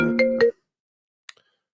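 A phone ringtone from an incoming call plays a short burst of clear, loud tones for about half a second, then stops, leaving silence with a faint click.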